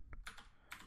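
Typing on a computer keyboard while entering code, a short run of a few quiet, close key clicks with no talk over them.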